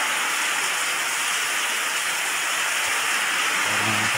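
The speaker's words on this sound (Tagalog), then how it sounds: "Lumalakas na ang ulan." Dense, steady typhoon rain hisses without a break at night, a broad wash of sound close by, with a faint low rumble near the end.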